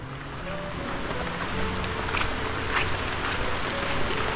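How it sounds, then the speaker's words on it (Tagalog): Steady rain pours down on a wet, slippery road, a dense even hiss that swells slightly louder over a few seconds, with a faint low rumble beneath. "grabe, sa lumalakas yung ulan"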